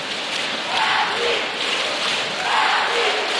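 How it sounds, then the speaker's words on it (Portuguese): Brazilian fans chanting in the stands at a women's volleyball world championship match, a broad steady crowd roar swelling in two rhythmic surges. "Torcida brasileira se manifestando."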